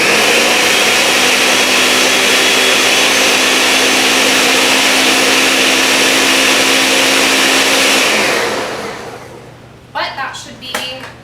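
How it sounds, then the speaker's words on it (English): A blender purees enchilada sauce for enchiladas suizas with a loud, steady motor roar for about eight seconds, then spins down and stops, after which people talk nearby. "sometimes with the blender it doesn't necessarily do that just because you have to blend it for a little bit longer than you would a food processor"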